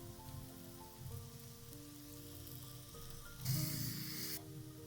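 Finely chopped carrots fry in a pan for an omelette, giving a steady, soft sizzle throughout. The sizzle swells briefly louder near the end.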